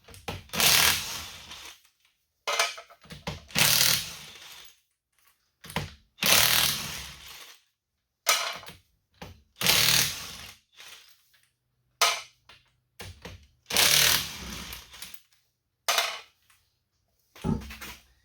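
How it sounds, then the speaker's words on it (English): An impact gun removes the rear driver-side wheel from a 2004–2008 Acura TL. Loud mechanical bursts repeat about eight times with short silent gaps between them, and no one speaks. "we'll start by removing the rear driver tire. So an impact gun definitely helps."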